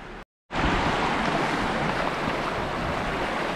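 The Kurjis mountain river in a canyon near Guamka, in Russia's mountains, roars loudly and continuously after a brief gap, a dense broadband wash with wind buffeting the microphone.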